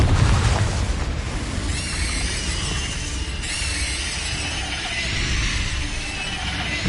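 Confringo blasting curse explosions in the Hogwarts Legacy video game, a sustained loud roar of magical blasts with crackling bursts and ringing shimmer, dense and continuous with no clear pauses.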